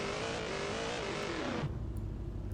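GTR car engine in Car Parking Multiplayer, a loud high revving drone whose pitch climbs and then drops sharply as it cuts off, followed by a lower steady idle rumble.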